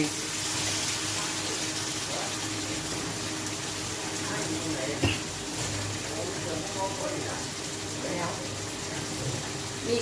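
Water pours in a steady stream into a pan while a Thai fish stir-fry cooks, a continuous splashing rush that lasts throughout with faint kitchen knocks.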